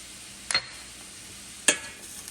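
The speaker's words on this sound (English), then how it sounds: "Then we're going to just stir it up for right now." A spoon scrapes and stirs vegetables with garlic powder and thyme in a seafood bisque pot, two distinct sharp clinks against a faint steady sizzle.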